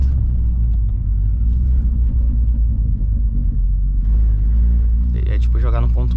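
A BMW 320i engine revs in neutral: a deep, loud rumble holding steady, with a rise in intensity near the end as people talk over it inside the car.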